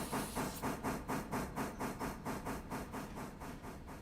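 A Pacific steam locomotive in the game Railroader hauls a heavily loaded train, its exhaust beating in quick, even chuffs that pulse steadily and loudly over a hissing wash of steam.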